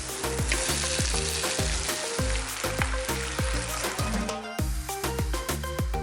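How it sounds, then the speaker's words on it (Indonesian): Jengkol beans stir-fried together with ground bird's eye chili sambal sizzle loudly and steadily in a pan, with repeated scraping strokes of a spatula, close and alone. "Sambal rawit yang udah halus tadi langsung ditumis barengan sama jengkol-jengkolnya."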